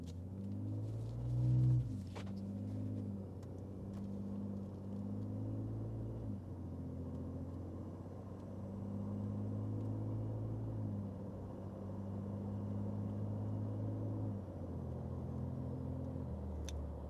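A 2019 Ford Raptor pickup pulls away across a parking lot, its engine droning steadily and climbing through several gear changes as it accelerates, a close, continuous rumble with no talking.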